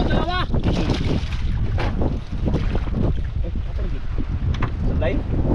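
A strong wind roars and buffets the microphone without letup, while people shout and talk over the rushing noise.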